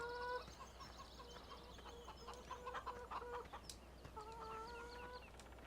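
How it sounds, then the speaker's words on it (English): Chickens in the Farming Simulator 17 video game cluck and squawk around a farmyard, with repeated short calls and a few sharper cries at moderate volume over a faint steady background hum. "Got our chickens."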